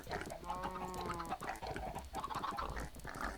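Chickens in the TerraFirmaCraft video game cluck nearby, with a drawn-out tonal hen call followed by a run of shorter, busier clucks that continue steadily throughout.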